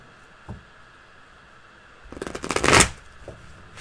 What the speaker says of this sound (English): So you shuffle first.